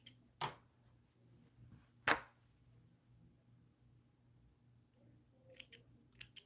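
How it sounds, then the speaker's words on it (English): Scissors snip loose threads on a small American Girl doll dress, two sharp close cuts early on, then a few lighter snips near the end in a quiet room. "I've got a couple of loose threads sticking up here. I'm just going to trim these."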